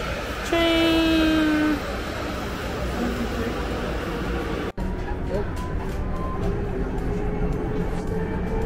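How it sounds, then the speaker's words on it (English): A loud train horn blasts for about a second in Amsterdam, followed by the steady rumble of a train rolling past, with voices calling out over it. "Is that a train? Oh my god, a train!"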